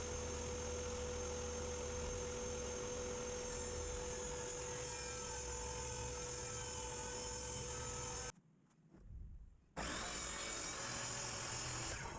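A power saw rips through 3/4-inch pine plywood in a woodworking shop, a steady loud whine running for about eight seconds before cutting off abruptly, then starting up again near the end.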